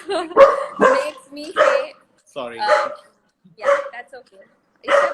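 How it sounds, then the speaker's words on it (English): A dog barks in short bursts at close range, interleaved with people talking nearby. "Yes, that's my dog."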